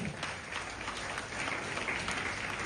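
An audience at an award ceremony applauds steadily, a dense wash of many hands clapping at moderate distance with no voices rising above it.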